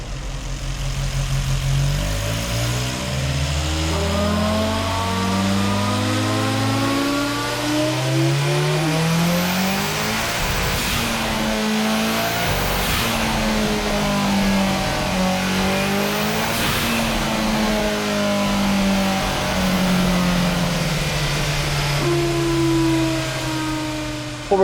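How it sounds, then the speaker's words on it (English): A 7.0-litre quad-turbo V12 Chimera engine, warmed up on a dyno, revs hard again and again. Its pitch climbs and falls in loud, sustained sweeps with no one speaking. "had set up the Chimera engine on the dyno and had it nice and warm and ready to give it the"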